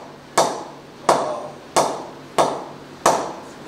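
A Grade 2 handpicked English willow SS cricket bat is tapped five times in an evenly spaced series of sharp, bright knocks, each ringing briefly before fading, close and alone.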